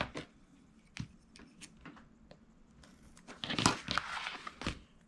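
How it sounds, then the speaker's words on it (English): Half-inch tape pressed onto a Dollar Tree placemat gives soft crinkles and small taps, then a louder burst of crackly rustling as the strip is smoothed down, all fairly quiet and close. "And then I'll take my 1/2-inch tape and put it right there."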